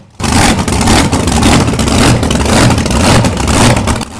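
A 1948 Allen 6S37 oil engine, 500 horsepower at 375 rpm, drives fen drainage at Welch's Dam pumping station. It runs loud, close and continuous, a dense steady roar with a faint pulsing beat and no pause.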